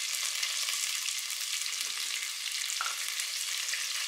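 Garlic cloves frying in hot oil for a sambar tempering, a steady bright sizzle that carries on throughout with a couple of faint stirring touches.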